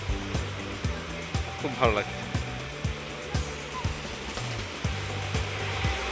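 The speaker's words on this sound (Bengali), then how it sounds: "পানি পড়তেছে" Water spills from a fountain at Dadubari resort in Dinajpur, making a steady, soft hiss throughout. Faint rhythmic thumps run beneath it, and a person speaks briefly.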